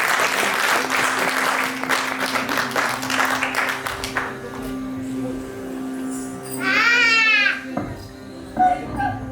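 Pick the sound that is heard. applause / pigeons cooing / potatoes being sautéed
applause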